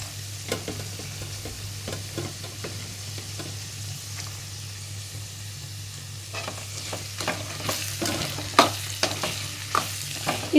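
Carrot, beans and cabbage stir-frying in a pan: a continuous sizzle broken by frequent scraping and clinking strokes of a spatula, close by, busier and louder toward the end, with no talking.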